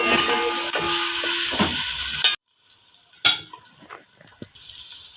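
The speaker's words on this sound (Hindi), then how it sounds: "इसकी हम करेंगे फ्राई तकरीबन 3 से 4 मिनट के लिए।" Green chillies frying in hot oil in a pan for aloo pulao, a steady close sizzle with stirring scrapes, cut off by a brief silence before a quieter sizzle resumes with occasional clinks.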